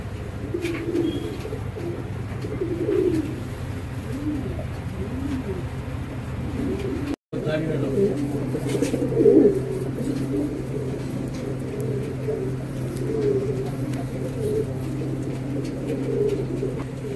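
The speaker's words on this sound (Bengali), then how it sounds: "পায়রাগুলো খাঁচার থেকে বাইরে বার করা হলো" Several fancy imported pigeons coo in a continuous, overlapping murmur after being let out of their cage, with soft low throaty calls swelling and fading close by throughout.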